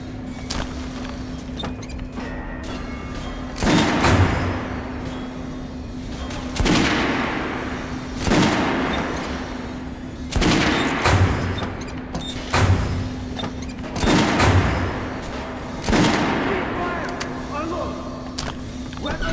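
Repeated gunfire in the video game Metro: Last Light, loud bursts recurring roughly every two seconds at a shooting range, with voices talking between and over the shots.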